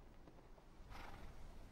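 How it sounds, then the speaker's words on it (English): A horse in a video game lets out a brief, faint neigh near the end, rising out of a quiet background hush. "Oh, did you hear the horse? There's a horse in there."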